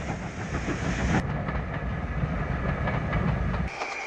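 A2 Pacific steam locomotive A.H. Peppercorn heads a heavy southbound mail train in Scotland, its loud, steady rumble and rhythmic clickety-clack of wagons passing close by with a hiss of steam, no voices.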